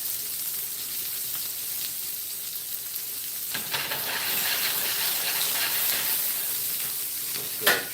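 Tri tip steak sizzles with butter in a hot pan, a steady crackling hiss that swells slightly toward the end, with a brief sharper spatter at the close.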